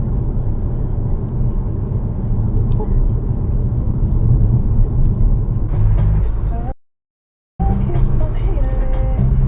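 A car on a street braking, with steady road traffic noise and people talking over it, then a brief hiss and squeal as the brakes bite, followed by a short sudden cutout of all sound.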